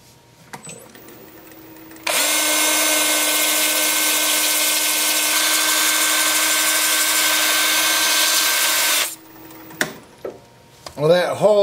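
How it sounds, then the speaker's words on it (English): A wooden piece spinning on a woodturning lathe while being sanded gives a steady, loud whir with a constant hum. It starts abruptly, holds for about seven seconds and stops, leaving faint handling noises behind. "Time for sanding."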